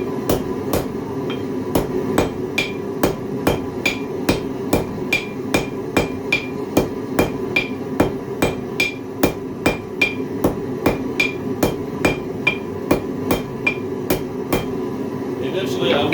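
Hot steel being hammered against the edge of an anvil to cut it, a steady run of sharp, ringing metal strikes at close range, evenly spaced about twice per second throughout.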